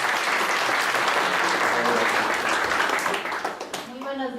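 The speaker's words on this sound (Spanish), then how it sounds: "démosle un aplauso" Audience applause welcoming a teacher to the lectern at a talk, a dense, steady burst of clapping from a crowd that fades near the end as a voice begins speaking.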